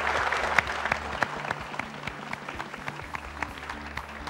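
An audience at a live youth forum applauds in a steady, moderately distant round of many clapping hands, with no talk over it.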